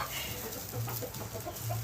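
Egg-laying hens clucking on a hobby farm, a steady murmur of low, repeated clucks and soft calls from several birds close by, with no talk over it.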